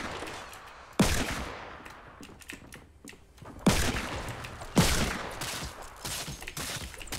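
Sharp sniper rifle shots in Fortnite Battle Royale, three loud isolated cracks spaced a few seconds apart, with lighter clicking and clatter between them and no talk.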